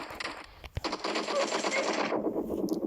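Rapid automatic gunfire from the mobile battle royale game PUBG Mobile in an arena match, a loud sustained burst of close shots with a brief pause before continuing.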